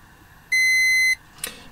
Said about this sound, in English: wait till it goes beep.